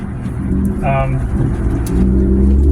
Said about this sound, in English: I do want to apologize for all the road noise and the exhaust, how loud it is